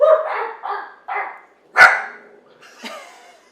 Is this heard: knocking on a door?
no